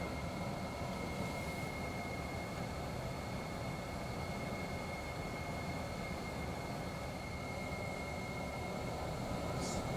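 A small plane's engine roars at full power during the takeoff roll, a loud, steady, continuous drone with a constant tone and heavy broadband rumble throughout, no speech.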